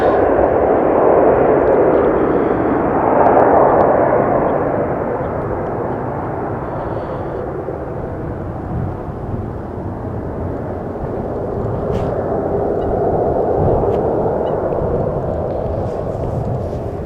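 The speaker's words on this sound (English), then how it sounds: "as we missed the beginning of the takeoff of this Embraer from KLM" KLM Embraer jet taking off at Amsterdam Schiphol Airport, a loud sustained roar that swells, eases slightly and then builds again as the jet climbs away.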